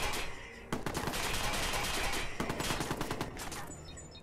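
Sustained gunfire in the video game Watch Dogs, dense bursts of automatic shots and overlapping reports that keep up loudly and steadily for several seconds with no talk over them.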